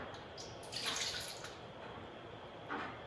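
Warm water pours into a bowl in a steady hissing stream, swelling briefly twice, a gentle flow splashing nearby.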